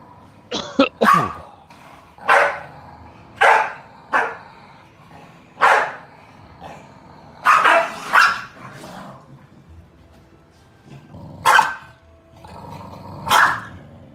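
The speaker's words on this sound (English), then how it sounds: "Those are some fat little dogs." Small, stout corgis bark and growl in a scuffle, with about a dozen sharp, separate barks and snarls coming in irregular bursts at close range over quiet gaps.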